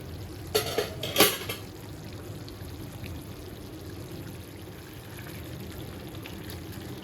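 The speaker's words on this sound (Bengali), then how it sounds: "নাড়া একবার দিচ্ছি একটু, সব উঠাইয়া উপর নিচ করে দিচ্ছি।" A few quick scraping, clinking strokes of a spoon against a pot while shahi roast is stirred, close and brief, then a low steady simmering hiss.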